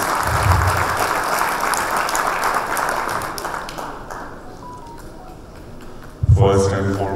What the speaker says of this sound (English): our core committee, which deserves a huge round of applause